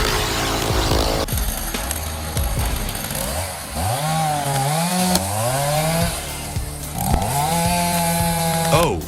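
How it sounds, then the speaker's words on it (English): A chainsaw cuts down a massive, dry, withered tree, its engine loud and close as it revs up and drops back repeatedly while biting into the wood. "Oh, the man is cutting down a massive tree"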